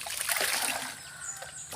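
Laundry washed by hand in a basin makes close, soft splashing and dribbling water sounds, irregular sloshes and trickles at low volume with no voices.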